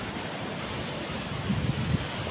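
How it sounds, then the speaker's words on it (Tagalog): Strong waves wash onto the shore in a continuous, rushing roar, mixed with gusty wind buffeting the microphone, close and steady with a slight swell toward the end. "Medyo malakas yung alon dito guys."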